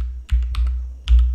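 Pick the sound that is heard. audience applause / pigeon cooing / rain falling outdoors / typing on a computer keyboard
typing on a computer keyboard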